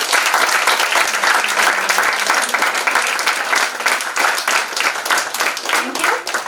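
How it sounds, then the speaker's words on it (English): An audience claps in a conference hall at a Model UN event, producing loud, continuous applause that fills the room from start to finish. "Can we all give them a round of applause, please?"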